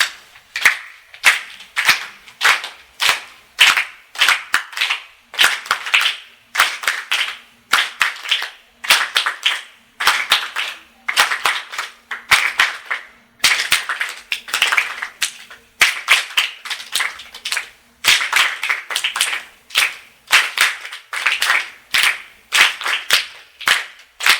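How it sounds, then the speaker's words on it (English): A group claps in unison along to a steady beat during a music therapy session on aging, sharp rhythmic hand claps repeating continuously with brief pauses between phrases, fairly close and loud with no talking over them. "When you were just clapping with me, that is just called entrainment."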